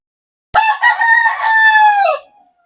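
A single fighting rooster crows once, loud and close, a long drawn-out call that trails off into silence.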